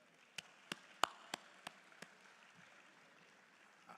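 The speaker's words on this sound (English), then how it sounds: "Can we give them a round of applause, please?" A handful of scattered, separate handclaps ring out from an audience at an award presentation for the African Youth Startup Pavilion at the Intra-African Trade Fair 2023. They are faint and sparse, about six distinct claps spread over a few seconds with quiet between them.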